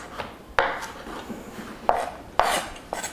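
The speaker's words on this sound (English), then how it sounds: "you're going to want to break down these mushrooms into a nice fine mince" A kitchen knife chops shiitake mushrooms on a board into a fine mince, with sharp separate knocks coming at an uneven pace and soft scraping between them.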